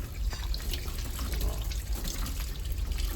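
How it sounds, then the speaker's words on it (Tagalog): Tap water runs into a sink while fresh squid is washed for a seafood boil, a continuous close splashing stream with small drips and no talk. "Syempre kailangan natin hugasan ng pusit."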